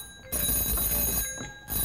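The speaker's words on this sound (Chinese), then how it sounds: "电话赶快接一接，听清楚啊。" A telephone rings at a noodle shop on a variety show set, a steady electronic ring starting after a brief lull, dipping midway and resuming toward the end, fairly loud with no talk over it.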